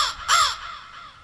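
A crow caws once, loud and close, a harsh nasal call standing alone over faint outdoor background near a garden park.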